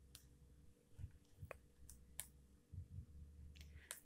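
A computer mouse clicks a few times, sharp and faint, with sparse single clicks spread out over a low steady background hum.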